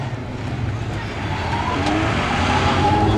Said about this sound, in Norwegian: Og så slipper Steine litt grann av der, og så gir du på igjen rundt svingen